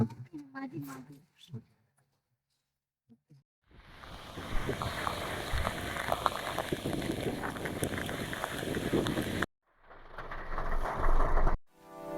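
Dense monsoon rain hisses loudly for about six seconds at Vagamon Pullikkanam, a hill area, with bursts before and after and someone talking briefly at the start.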